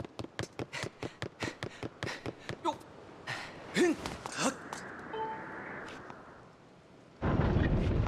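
A bomb going off in Skyward Sword HD during the Sealed Grounds fight against the Imprisoned: a run of quick, sharp taps and assorted game tones, then a sudden loud, roaring burst that fills the last second.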